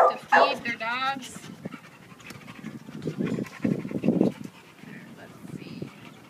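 A dog at an animal shelter pants in quick, breathy bursts close by, with a short whine at the start and a voice speaking intermittently.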